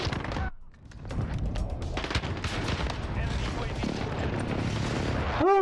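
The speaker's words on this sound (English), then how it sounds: "Airstrike. Get down." Video-game airstrike explosions and gunfire rumble close and loud, a continuous heavy barrage of booms and shots that builds steadily to a final blast.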